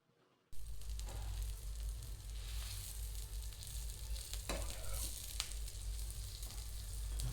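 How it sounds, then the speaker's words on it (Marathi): Pav bread rolls toasting on a hot pan, a steady close sizzle that starts abruptly after a brief silence, with a few faint clicks of the spatula. "तर दोन्ही साईडनं हे पाव आपण भाजून घेतोय."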